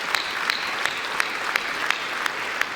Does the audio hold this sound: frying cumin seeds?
no